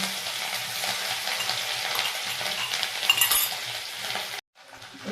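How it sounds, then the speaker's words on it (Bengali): Ginger and green chilies fry in hot oil in a pan, giving a constant crackling sizzle with light stirring scrapes and small metallic clinks, then a brief cut to near silence at the end. "এবার আদা কাঁচা লঙ্কাটা একটু ভেজে নিয়েছি"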